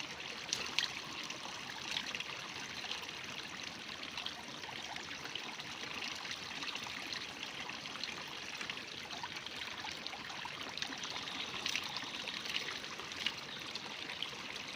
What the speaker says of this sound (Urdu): کشمیر کا ٹھنڈا خوبصورت چشمہ اور یہ میرے گھر کے بالکل قریب